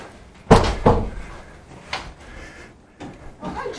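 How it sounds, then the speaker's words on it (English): A house front door opening and closing, with a few sharp knocks and thumps, the loudest near the start, followed by softer handling sounds. "This is the front door."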